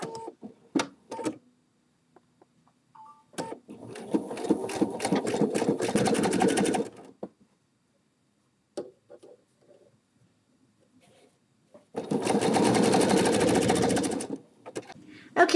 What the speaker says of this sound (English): now I just finished sewing the top seam, okay, and we're using the zigzag stitch